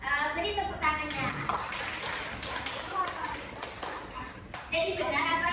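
Children in a primary school science class clap together, a quick burst of taps and hand claps mixed with young voices chattering close by.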